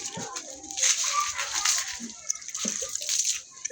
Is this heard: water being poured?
yes